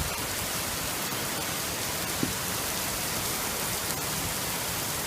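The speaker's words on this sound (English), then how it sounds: "Another crazy night of rain." Heavy rain falls at night in a steady, dense hiss that stays constant throughout, with no voices over it.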